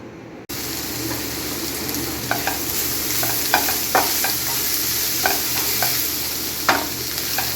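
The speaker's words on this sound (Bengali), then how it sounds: "এখন আমি করলা ভাজিটা করতেছি।" Bitter gourd stir-fried in a hot pan gives a steady, close sizzle with scattered crackles and pops and a few sharper spatters, and no one talks.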